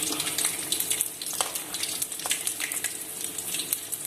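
Sukiyan, sweet fried dumplings, frying in hot oil, with a steady close sizzle and a crackle of small bubbles throughout and no talking.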